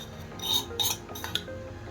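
A pan set on a stove for heating, with a few light metallic clinks and clatters against a quiet kitchen background.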